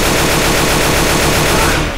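A rifle in a video game fires as a rapid, continuous stream of automatic shots. It is loud and close, runs for about two seconds, then cuts off, with no talking.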